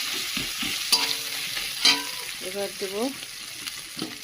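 A hilsa fish head fries in oil with a soft, close sizzle, punctuated by a few utensil clinks and stirring scrapes while someone speaks briefly.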